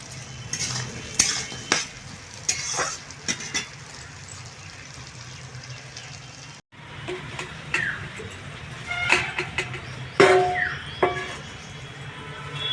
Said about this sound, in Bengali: যাতে আলুটা তাড়াতাড়ি একটু ভাজা ভাজা হয়ে যায়